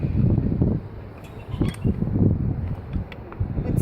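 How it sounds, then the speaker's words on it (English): Bolts are tightened on a Huffy Marvel Spider-Man kick scooter, heard as close creaks and ratcheting turns in short bursts, with scuffs and light handling noises between them. "He's tightening up all the bolts"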